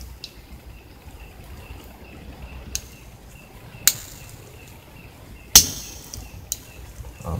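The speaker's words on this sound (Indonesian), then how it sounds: "Kalau ada bunyi trik, berarti keyboard bisa kita lepas." Plastic keys being pried off an Asus X451 laptop keyboard: a few sharp, isolated clicks and snaps stand out against a quiet background, with the loudest pop near the end.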